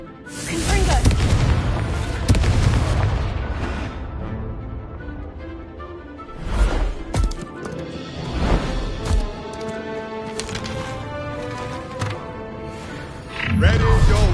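Spell blasts from the Confringo fire spell in the Hogwarts Legacy video game land as several loud booming bursts amid game music and speech, with clustered impacts around the middle and a heavy crash near the end.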